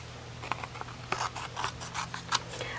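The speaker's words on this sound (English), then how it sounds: "we will trim off the balance, the rest of it" Scissors trimming card stock for a Stampin' Up! paper craft project, a close run of crisp snips and rasping cuts in quick succession over a low steady hum, no talk.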